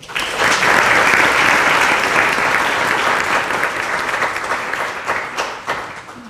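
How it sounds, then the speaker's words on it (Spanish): Sustained audience applause at a roundtable panel on computing, loud and steady for several seconds before tapering off slightly, with no speech over it. "También recibámoslos con un aplauso, por favor."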